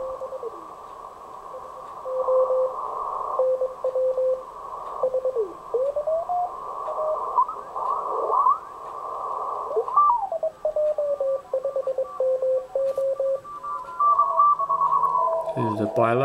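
CW Morse signals come through an SG-2020 radio receiver set to a narrow 400 Hz bandwidth. Clean, steady keyed tones run for the whole stretch, with overlapping stations and tuning sweeps and a low burble near the end.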